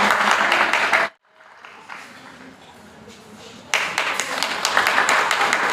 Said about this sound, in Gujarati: તાળીઓથી વધાવજો મિત્રો.